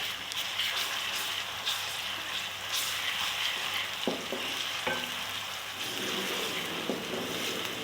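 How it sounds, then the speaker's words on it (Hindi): Crushed garlic and ginger frying with browned onions in a pan, giving a steady close sizzle throughout with a few sharp clinks of a stirring spoon near the end. "और देखिए बस लहसुन अदरक भुन चुका है प्याज के साथ।"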